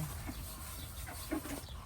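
Chickens on a small farm in Italy give faint, scattered clucks over a steady low outdoor hum, brief soft calls spaced through the stretch.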